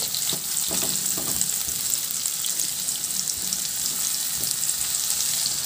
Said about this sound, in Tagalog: At isunod ko na rin ilagay yung sibuyas. Ihalo lang din hanggang sa maluto.